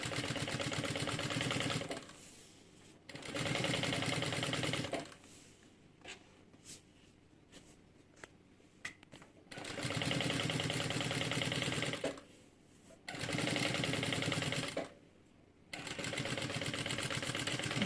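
A sewing machine stitches a bag's lining and main fabric in several steady whirring runs of two to three seconds each, separated by short pauses filled with light clicks and fabric handling.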